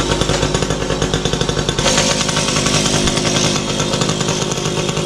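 Small engine fitted to an old bicycle converted into a motorbike, revving loud and close on a test ride with a rapid buzzing, chainsaw-like rattle that rises in pitch partway through.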